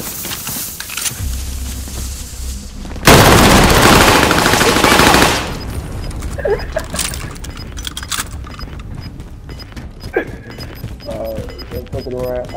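Submachine gun fire in a hardcore multiplayer shooter game: a loud, dense automatic burst lasting about two seconds, followed by scattered lighter shots and game noise while players talk.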